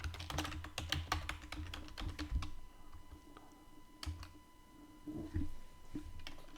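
A password typed on a computer keyboard: a rapid run of close, crisp key clicks, then a pause with scattered taps and a few more keystrokes over a faint steady hum.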